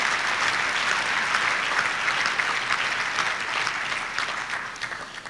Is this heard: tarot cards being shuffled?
no